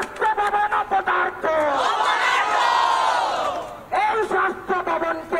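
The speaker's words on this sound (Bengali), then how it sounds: "এই মুহূর্তে এই সরকার অপদার্থ বলে স্লোগান" A large crowd of junior doctors protesting against the government chants slogans in a loud rhythmic call and response, with one long sustained shout in the middle, on a street outside a health office.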